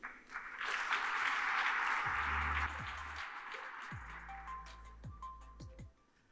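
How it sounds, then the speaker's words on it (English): A crowd at the YouthConnekt22 event applauds loudly after a minister's speech in a steady wash of clapping that fades slightly toward the end, with a few low tones sounding underneath. "Another round of applause, please."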